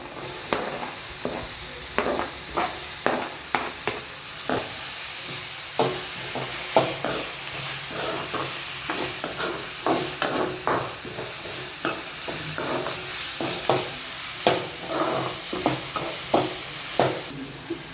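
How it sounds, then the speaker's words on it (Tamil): Vegetables with carrot sautéing in a hot pan, a steady sizzle broken by repeated close scraping stirs of a utensil against the pan at an uneven rhythm, with no talking. "இதையும் நல்லா வதக்கி விட்டுக்கலாம். இப்போ கேரட் போட்டுக்கலாம்."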